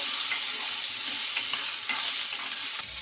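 Small-cut ginger pieces and garlic cloves fry in a pan with a loud, continuous crackling sizzle that holds steady for the whole stretch, close by and with no voices.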